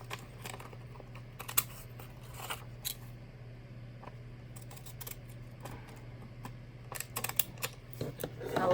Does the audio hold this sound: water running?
no